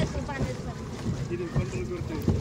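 A small boat moving across the water at a water safari, giving a steady rumbling wash of engine and water noise with wind buffeting close to the microphone and people talking throughout.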